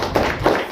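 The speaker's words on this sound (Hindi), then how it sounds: "हाँ सही, ताली बजाओ भाई इसकी।" Students in a classroom give a brief burst of clapping, two quick clusters of hand claps within under a second.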